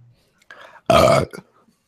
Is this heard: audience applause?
no